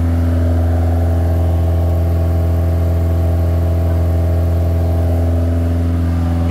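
A 1988 Dodge Magnum's warmed-up engine held at a steady high rev around 2500 rpm, a loud continuous mechanical drone with strong low hum, recorded close with no talking.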